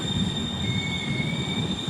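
Navyug Express sleeper train slowing toward Gangapur City station, wheels squealing in thin high steady tones over a low rumbling roll, close by and without talk.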